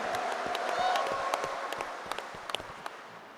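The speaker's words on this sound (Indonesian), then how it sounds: "Kita beri tepukan yang paling meriah." A crowd at a public debate for regency candidates in Bener Meriah applauds, starting as a dense wash and thinning into scattered individual claps, with a voice faintly present.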